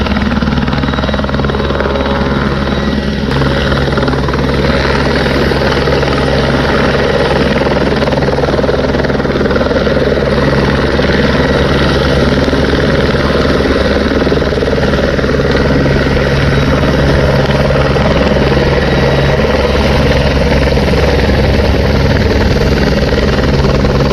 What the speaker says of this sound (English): there's like a helicopter filming the